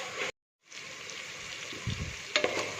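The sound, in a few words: tomatoes sautéing with onions in a pan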